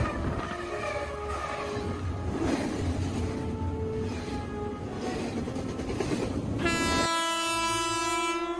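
A train rumbles along the railway tracks with a faint rhythmic clatter, its horn sounding in repeated blasts before a louder, brighter horn blast closes the passage.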